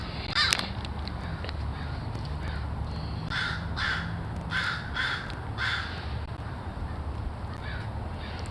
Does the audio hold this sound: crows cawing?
yes